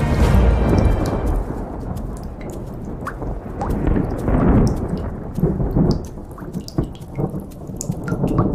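A heavy thunderstorm from a Hindi Christian movie soundtrack: dense, loud downpour with rumbling thunder rolling underneath and scattered sharp drips and splashes spread throughout.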